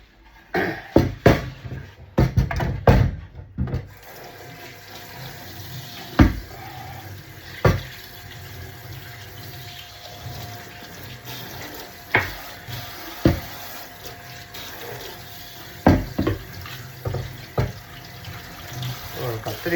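Dishes get washed under a running kitchen tap, with steady water flow broken by repeated clinks and knocks of pots and utensils, close and busy, with occasional talk.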